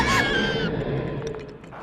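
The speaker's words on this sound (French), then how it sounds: "Ça, c'est le genre de cri qu'un dragon pourrait bien venir vous hurler dans les oreilles" A loud, shrill scream likened to a dragon's roar in the French version of the Ever After High Triathlon episode, strongest at the start and fading into a rough, crashing tail.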